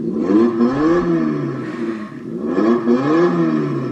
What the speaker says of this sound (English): It's got the standard sound effect, revving up motor.